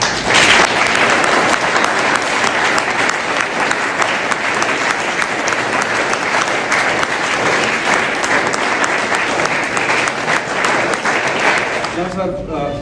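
Loud, sustained applause from a crowd welcoming guests at a Hapkido training camp, steady clapping for about twelve seconds before it fades out at the end.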